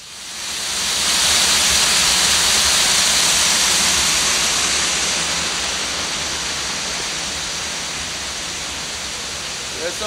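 River water rushes in a loud, steady broadband roar that swells in over the first second and then holds nearly unchanged, close and continuous.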